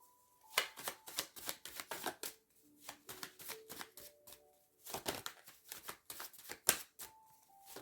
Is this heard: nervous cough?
no